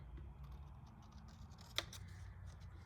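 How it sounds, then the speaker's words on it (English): Scissors make a single crisp snip as they cut a sheet of grid paper in half. The snip is close but quiet, over a faint low hum, with no talking. "what I'm gonna do is just cut it right in half because this has lines"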